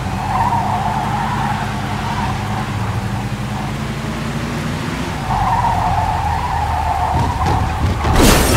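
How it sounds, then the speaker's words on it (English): A speeding car in a Mafia 2 police chase lets out a loud, sustained tire skid over a roaring engine, easing off briefly midway and then squealing again, ending in a burst of noise. "In pursuit of a speeding vehicle."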